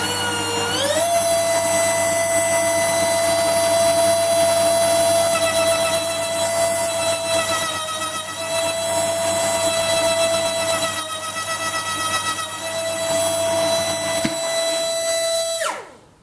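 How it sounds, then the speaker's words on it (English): A small die grinder spins up and runs steadily with a high whine, enlarging the bore of a cheap knurl wheel held in a collet chuck; loud and close, pitch dipping slightly under load before shutting off at the end. "I've got the little die grinder set to go, so we'll fire it up and we'll open out the hole"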